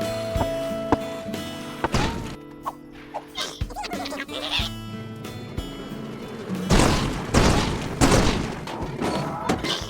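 Impact explosives go off in LittleBigPlanet, several booming thuds and bursts erupting in a cluster over tonal game music after a calmer stretch of lighter knocks.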